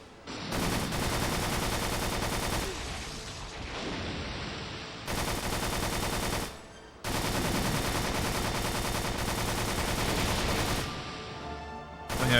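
Gunfire in the PS2 game Extermination, rapid bursts of loud shots in several long stretches, broken by brief pauses, with dense game noise throughout and no talking.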